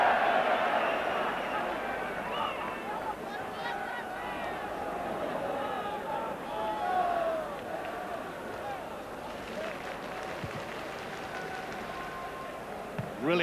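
A large football crowd of around 40,000 at Ibrox fills the air with a steady roar and murmur throughout, busy and continuous, with occasional swells and whistles.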